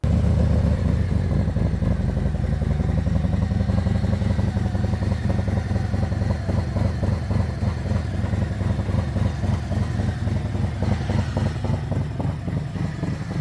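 A motorcycle engine idling close up, a steady loud low throb with a rhythmic uneven pulse, no talking.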